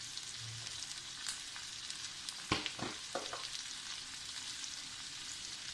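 Onion roasting with chilli powder and salt in a pan, a soft steady sizzle running throughout with a few sharper scraping stirs midway; no one speaks.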